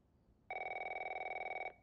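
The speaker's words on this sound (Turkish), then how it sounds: "Ha, telefon çalıyor." A telephone in The Last of Us Remastered rings once: a single sustained electronic trill with a fast pulsing flutter, starting sharply and stopping after just over a second, clear and alone over faint background.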